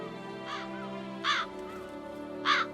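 Three loud, harsh crow caws spaced about a second apart ring out over a steady ambient hum outside a red door to a beast's lair in The Witcher 3: Blood and Wine.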